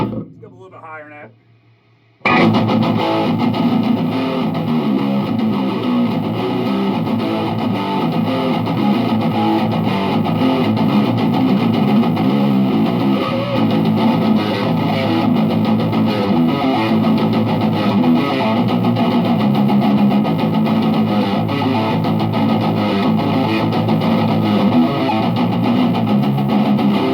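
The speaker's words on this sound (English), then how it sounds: "it's not like hardcore distortion, but distortion is there" Crunchy overdriven electric guitar through a Peavey 6505+ amp's crunch channel with gain on 9, played continuously and loudly after a brief quieter lead-in, with a gritty, moderately distorted tone throughout.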